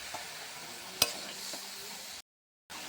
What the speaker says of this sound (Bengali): পরিমাণ মতো আবার নাড়াচাড়া করি।